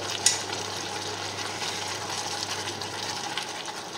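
Salmon risotto rice being stirred in a pan, a soft continuous scraping and gentle sizzle with a small clink near the start, close and steady, no voices.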